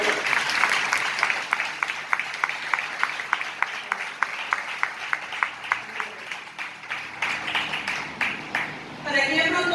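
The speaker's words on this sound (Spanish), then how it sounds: "Aplausos al Señor." A church congregation claps in steady rhythmic unison at a service, many crisp evenly spaced claps carrying on for several seconds before a voice speaks at the end.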